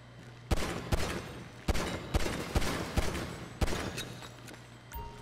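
Gunfire at a shooting range in Grand Theft Auto V: about ten sharp, loud shots at an uneven pace, each trailing a short echo, with no talking over them.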